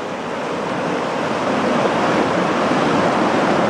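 Loud, steady broadband rush of water, like a fast river or torrent, filling the whole stretch without breaks or talk.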